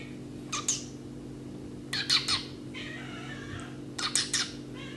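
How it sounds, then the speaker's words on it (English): A kitten gives three short, high meows at intervals, faint and close against a quiet indoor background hum. "my friend's kitten meowing"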